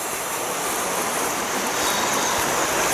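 A river flows steadily along a countryside route, a continuous broadband rush of water close by with no talking.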